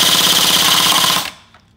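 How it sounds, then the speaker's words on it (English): A custom airsoft DMR rips off a full-auto burst of rapid, evenly spaced pops, loud and close, lasting about a second and a quarter before cutting off abruptly into near silence. "we'll give it a quick burst on full auto for you guys to check out"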